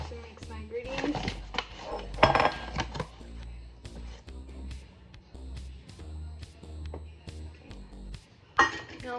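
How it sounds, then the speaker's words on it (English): Ingredients for a leftover potato and chorizo dish are mixed in a cup, giving irregular clinks, taps and knocks of utensil against vessel, with a few sharper clatters and what may be faint voices underneath. "I'm going to be using a cup to mix my ingredients"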